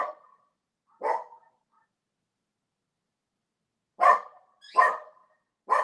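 Pet dogs at home let out five sharp, separate barks, one near the start, one a second later, then three close together after a pause, moderately loud and with no talk over them.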